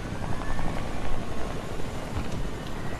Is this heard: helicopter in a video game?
yes